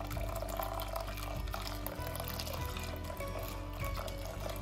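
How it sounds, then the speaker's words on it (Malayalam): Tender coconut water with dissolved china grass is poured into milk mixed with condensed milk for coconut pudding, a steady, close liquid splashing that runs continuously without a break. "അപ്പൊ നമ്മൾക്ക് ഇനി ചൈന ഗ്രാസ് അലിയിച്ച ഇളനീര് ഈ പാലിലേക്ക് ഒഴിക്കാം."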